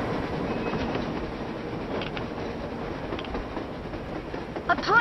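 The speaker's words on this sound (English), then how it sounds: "A train! A damn train on the surface!" A train rolls past on the surface in the video game Metro Exodus, a steady rumbling clatter of railcars with creaks and metallic clicks, swelling louder near the end.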